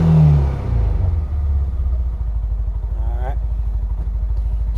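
The cheapest UTV sold at Tractor Supply idles with a loud, close, rapid pulsing engine putter that settles after an opening rev, continuous and even throughout.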